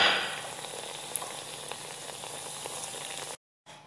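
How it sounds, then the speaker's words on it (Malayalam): Doughnuts frying in oil give off a steady, close hiss and fine crackle that holds evenly for a few seconds before cutting out abruptly near the end. "ബാക്കിയുള്ളതും ഇതുപോലെ ഫ്രൈ ചെയ്തെടുക്കാം"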